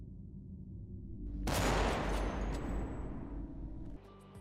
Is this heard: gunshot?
yes